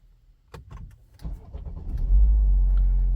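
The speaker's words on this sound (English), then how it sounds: "I'm going to turn on the car." A BMW X car engine starts after a few clicks and thumps, cranking then settling into a steady low idle that stays loud to the end.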